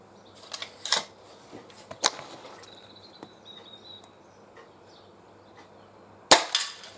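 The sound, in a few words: Benjamin Trail NP Mk2 air pistol shot at cans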